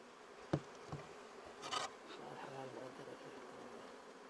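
Honeybees buzz faintly at beehives kept by a nomadic beekeeper in Yemen, a soft, steady drone with a few brief knocks and a short rustle, quiet and close in a calm outdoor setting.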